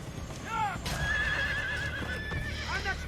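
Horses in the video game Assassin's Creed Brotherhood let out a couple of shrill whinnies during a fight, heard fairly close amid game noise with faint hoof clatter.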